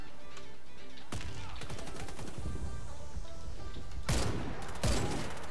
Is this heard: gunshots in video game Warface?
yes